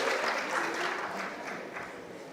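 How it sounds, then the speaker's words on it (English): Audience applause fills the room at a business panel event on market trends, a steady, moderately distant patter of many hands that fades slightly toward the end. "A round of applause, my serial entrepreneur."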